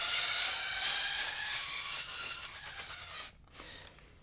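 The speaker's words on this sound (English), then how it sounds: "I can scrape the bamboo to produce a percussive sound." Bamboo pipes of a khaen scraped like a guiro, giving a steady close raspy rubbing texture that runs for about three seconds, then stops abruptly with a brief faint scrape after.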